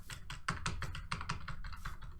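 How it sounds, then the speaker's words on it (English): Clacky keystrokes on a computer keyboard, picked up by a desk microphone, tap out a fast, uneven run of typing at a fairly quiet level, with no voices. "it's always been picking up keyboard sounds way too much"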